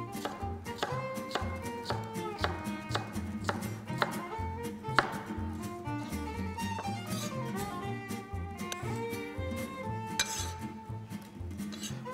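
A knife chops cucumber into small cubes on a cutting board, a fast, steady run of crisp knocks over soft background music.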